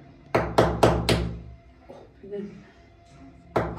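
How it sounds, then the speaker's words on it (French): A nail is hammered in for home decorating, four sharp, close hammer strikes in quick succession, a pause with voices talking, then another strike. "il faut que tu me mettes le clou"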